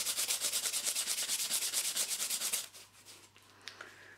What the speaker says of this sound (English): we're just going to clean that rust off using a Scotch-Brite pad